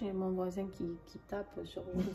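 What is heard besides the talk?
No distinct noise like a dog, phone or traffic.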